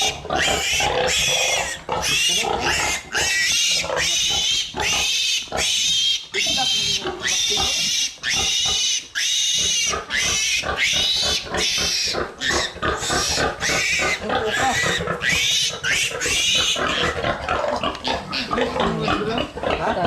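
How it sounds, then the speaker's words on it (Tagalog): Pigs and piglets grunt and oink continuously at close range on a small backyard farm, the snorting calls dense and overlapping throughout, with a voice speaking now and then. "Ito ang nag-iisa na anak sa baboy ni tatay."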